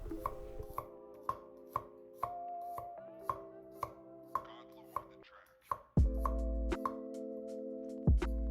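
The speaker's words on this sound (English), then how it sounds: "We're going to trim the garlic and slice it into thin rounds." A knife slicing trimmed garlic into thin rounds on a cutting board, giving about a dozen crisp, evenly spaced chops close by, with a low background hum and no talk.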